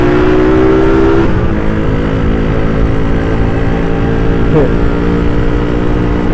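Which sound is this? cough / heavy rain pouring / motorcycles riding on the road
motorcycles riding on the road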